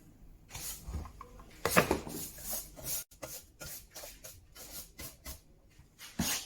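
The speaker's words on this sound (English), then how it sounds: "So I'm sanding all the edges on all these corners" Rhythmic rasping strokes of sandpaper rubbing across the edges and corners of plywood vise jaws, steady and close, in repeated short passes.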